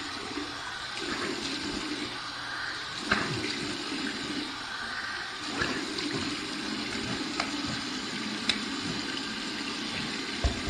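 Steady rushing cold water with splashy bursts as a face is rinsed at a sink after a shave, continuous and fairly close.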